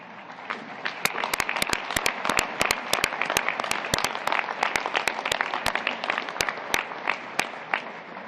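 An audience at the U.S. Soccer Annual General Meeting claps for honored guests, giving steady, dense applause of many hands that lasts throughout, fairly even in loudness, with no voices over it.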